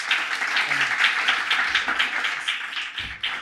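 An audience claps for panelists at the close of a translation panel session, a brisk, even round of applause with individual hand claps audible, fading slightly toward the end.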